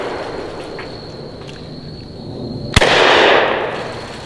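A shotgun fitted with X-Caliber survival adapters fires once at a dummy: a single sharp, loud blast after a low outdoor hum, followed by a broad roaring decay lasting about a second.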